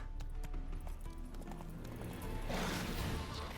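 Geralt's horse Roach in The Witcher 3 trots with steady clip-clopping hooves under game music, then a rushing burst of noise swells near the end.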